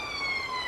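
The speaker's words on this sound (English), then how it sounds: "we've got a police car or an ambulance you can hear in the distance there" A police car or ambulance siren wails in the distance in a brief, faint, steady tone.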